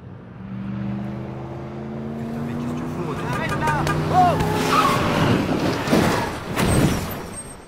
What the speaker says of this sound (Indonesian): Setelah mobil itu terperosok dan terbalik di pinggir jalan